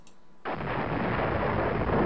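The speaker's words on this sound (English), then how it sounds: "Oh, it sounds like an explosion." A video game explosion erupts after a quiet half second, a dense roaring blast that sustains loudly, steady and rumbling, without any talk.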